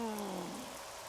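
Rain falls in a Courage the Cowardly Dog cartoon scene, a brief, fairly faint wash of steady hiss, opened by a short descending tonal sweep.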